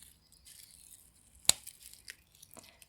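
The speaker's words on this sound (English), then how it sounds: "So first I'm just going to cut them out from the stem." Flowers are snipped from their stems with one sharp, crisp cut standing out among faint rustles and a couple of smaller clips, quiet and close.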